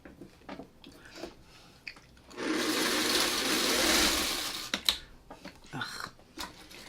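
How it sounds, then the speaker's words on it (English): A sewing machine stitches white fabric in one loud, steady burst of whirring that lasts a couple of seconds, with quieter handling clicks and rustles before and after. "my sewing machine does not like this white fabric"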